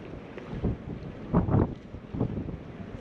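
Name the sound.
wind blowing by the water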